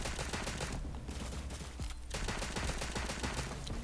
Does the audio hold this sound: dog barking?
no